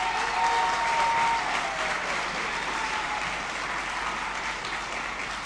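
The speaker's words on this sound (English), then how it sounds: "how about another round of applause for them?" Crowd applause at a middle school spring band concert: a broad wash of many hands clapping, loudest at first and then easing off slightly, with a faint high tone briefly ringing above it.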